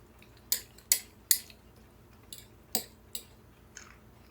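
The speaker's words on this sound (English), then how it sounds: "So let's give her a stir." A spoon stirring a five-year-old freeze-dried meal with cheese on top inside a jar gives several sharp clinks and scrapes, close and fairly quiet, spaced irregularly over a few seconds with no talking.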